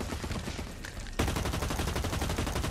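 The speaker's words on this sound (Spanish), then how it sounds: "Hay mucha gente que se está disparando." Rapid automatic gunfire from several guns rattles in dense, continuous bursts during a Blacklight: Retribution match. After a brief lull it grows louder and fuller, with no talking.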